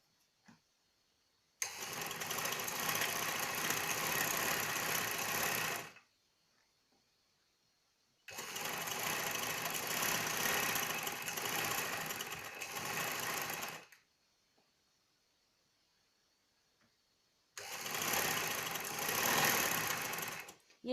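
A sewing machine runs in three separate bursts of several seconds each, stitching a second line of a double seam on a shirt, with quiet pauses between runs.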